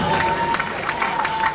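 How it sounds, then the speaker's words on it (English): Crowd at the Jamaica Carifta Games Trials cheering and clapping as an under-17 boys' 3,000 m runner heads down the home stretch, a steady wash of applause with bright claps over a lingering tone. "Keep the applause going."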